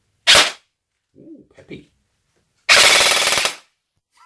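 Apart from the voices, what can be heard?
MP5 airsoft replica firing full auto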